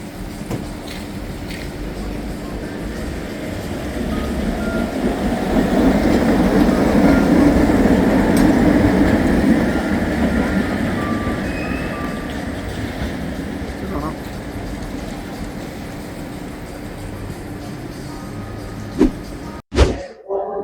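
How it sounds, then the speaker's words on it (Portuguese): A metro train moving through a Sofia metro station: a steady rumbling roll that swells to a loud peak midway and then fades, with a few sharp clanks near the end. "nós estamos numa estação do metrô"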